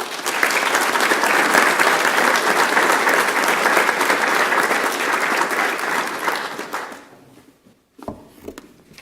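Commencement audience applauding to welcome a speaker, sustained loud clapping from a crowd that fades out, followed by a few faint handling knocks.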